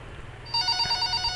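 A telephone rings with a bright electronic trill in a hospital horror video game, starting abruptly after a brief quiet room tone and continuing steadily, close and clear.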